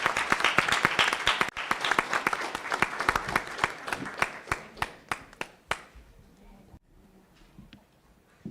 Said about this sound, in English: let's give these students another round of applause and congratulations